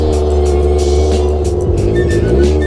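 A motorcycle with a very loud aftermarket exhaust idles steadily as it warms up inside a workshop, a close, constant deep rumble with no talking.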